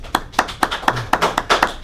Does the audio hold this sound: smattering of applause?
yes